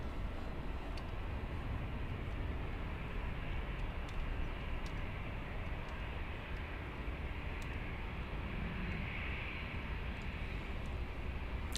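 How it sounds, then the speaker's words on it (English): A Lufthansa Airbus A350 bound for Haneda passes at Munich airport, heard as a steady, broad engine roar that holds at an even level throughout, distant rather than close, with no talk over it. "we have a big A350 flying to Haneda, Lufthansa 714"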